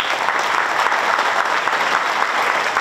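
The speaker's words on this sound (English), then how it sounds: "Let's give another round of applause to our dignitaries." A gala dinner audience raising money for the Canadian Cancer Society applauds its dignitaries, a full, even wash of many hands clapping at once that holds steady throughout.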